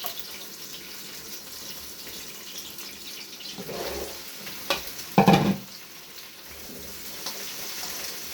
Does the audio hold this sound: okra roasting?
yes